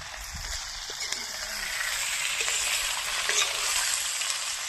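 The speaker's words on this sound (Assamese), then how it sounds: "এতিয়া আমি গাহৰিখিনি অলপমান টাইম ভাজি ল'লোঁ" Boiled pork fries in a pan for a pork and black lentil dish, giving a continuous, even sizzle with soft stirring scrapes and a faint voice underneath.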